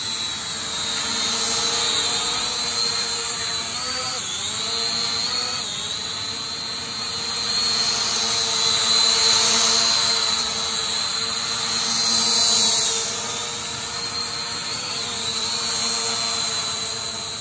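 An E88 camera drone flies nearby, its propellers giving a steady, loud high-pitched whine and buzz that rises and falls slightly in pitch throughout, with no talk.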